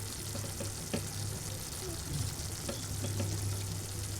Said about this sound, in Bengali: আমার পেঁয়াজটা, টমেটোটা আর রসুনটা একটু ভাজা হয়ে গেছে